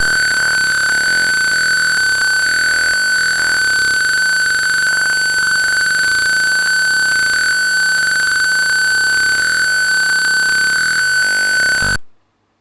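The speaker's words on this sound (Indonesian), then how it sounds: "ketika benda tersebut bergerak, maka peer sensor buzzer akan mengeluarkan bunyi" A buzzer in a simulated PIR motion sensor circuit sounds a steady, continuous electronic tone, loud and unbroken for about twelve seconds before it cuts off abruptly.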